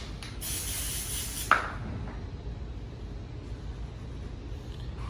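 Oil is sprayed onto wallpaper in a short aerosol hiss near the start, followed by a soft click and faint rubbing against a quiet background hum.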